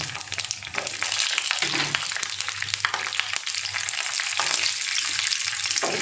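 Black cumin seeds and slit green chillies tempering in hot oil for a rohu fish curry, a loud, close, crackling sizzle with some stirring scrapes, steady throughout and without voices.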